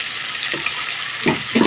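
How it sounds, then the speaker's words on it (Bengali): Chopped onion frying in oil for an egg curry, a loud steady sizzle close by with a few short stirring scrapes, and no voices. "দিয়ে ভালো করে পেঁয়াজটাকে ভেজে নিতে হবে"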